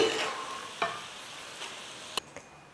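Peanuts frying in hot oil for a savory mixture snack, a steady soft sizzle with a few sharp clicks of a ladle stirring against the pan.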